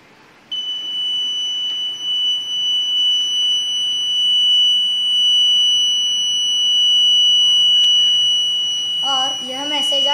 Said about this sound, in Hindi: जब पानी रेनड्रॉप सेंसर को स्पर्श करेगा तब भी तुरंत बजर बजाएगा।